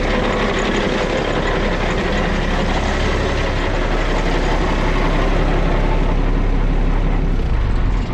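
A 1988 International tandem dump truck's engine idling, a loud, steady diesel rumble close up with no other sounds.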